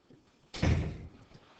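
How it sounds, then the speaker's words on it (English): A classroom door is given a shove and thuds shut once, a single dull close thump over quiet room tone. "Give that door a little shovey shove,"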